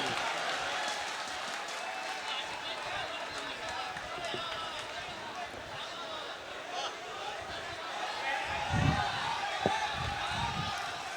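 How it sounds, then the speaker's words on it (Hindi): Audience applause for poet Hashim Firozabadi at a mushaira, a steady clapping crowd heard from a distance, with a few thumps and a voice near the end. "आइए हाशिम भाई, एक बार जोरदार तालियां बजाइए हाशिम के लिए।"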